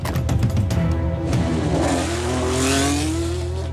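A Formula One V6 turbo race car engine revs hard up close, its pitch sweeping steadily upward as it accelerates, loud and unbroken with no voices.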